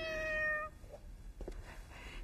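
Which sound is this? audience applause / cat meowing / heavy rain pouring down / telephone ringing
cat meowing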